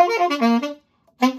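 Notes from a Dominican merengue típico chord pattern ring out as bright, harmonically rich tones in a quick run. A short silence follows before the next notes come back in.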